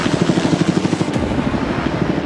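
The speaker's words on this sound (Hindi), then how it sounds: "ये हेलीकॉप्टर हमारे बॉयज को ऊपर हवा में ले जाएगा" A helicopter flying over a private island as people leap from it: a loud, close, steady rotor chop with rhythmic low thumping that runs throughout, with no talking.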